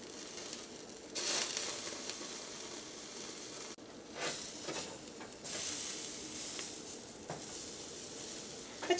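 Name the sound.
chicken grilling on a steel rack over a gas stove flame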